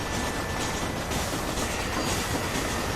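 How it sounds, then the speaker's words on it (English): Old steam locomotive train running in Red Dead Redemption, a steady rumbling roll with rhythmic clickety-clack of wheels on track, continuous and close with no voices. "Old school steam engine."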